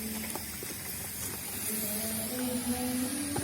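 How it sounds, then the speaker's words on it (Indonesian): Water is sprayed on a cucak jawa songbird to tame it, a continuous hissing mist of spray close to the listener, with faint bird chirps and other small noises underneath. "Ini kita semprot tujuannya biar si burung itu jinak, tidak takut dengan kita."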